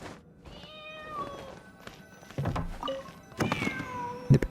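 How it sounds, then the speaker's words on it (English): Repeated cat meows from behind a painting in a video game, a few drawn-out cries with soft thunks between, fairly close and clear with no talk. "I hear the cat cries a bit clearer now"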